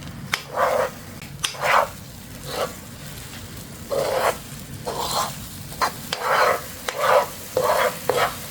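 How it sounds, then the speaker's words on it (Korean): Beaten egg sizzles quietly in a pan over low heat while a spatula gently pushes it in short, repeated scraping strokes, with no one speaking. "달걀물을 붓고 살짝 익으면 주걱으로 살살 밀어서 위로 올려요"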